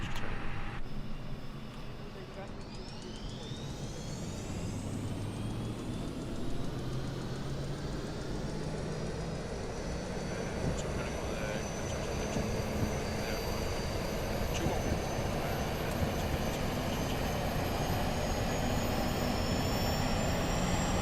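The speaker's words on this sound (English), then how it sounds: "We can spool the APU." Auxiliary power unit of an Airbus A320 (A32NX) spooling up in Microsoft Flight Simulator, a steady rising whine with broadband turbine roar that grows gradually louder and holds, alone without talk.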